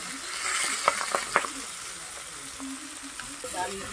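Fish frying in hot oil makes a continuous soft sizzle, with a few sharp clicks of stirring or turning, and no voices.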